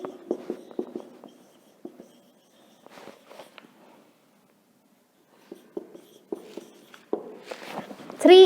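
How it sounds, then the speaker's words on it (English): A teacher writing on a classroom board, with clusters of short taps and strokes from the chalk or marker, close and moderately loud, broken by quiet gaps. "Let me write these three"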